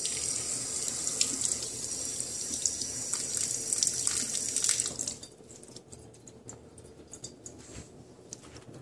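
Tap water runs loud and close into a sink as a Kanger Protank vape coil is rinsed, then the flow stops abruptly, leaving faint drips and handling sounds.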